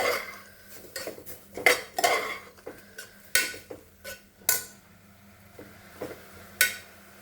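Grated carrot for carrot halwa being sautéed over a medium flame, a spoon clanking and scraping against the metal pan in irregular close strokes, with only a faint frying hiss between the knocks.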